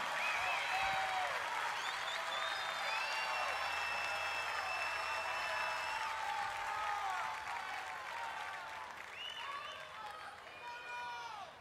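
At the Cosquín folk festival, a large crowd applauds and cheers for José Luis Aguirre. Broad clapping runs throughout, with whistles and shouts over it, and eases slightly toward the end.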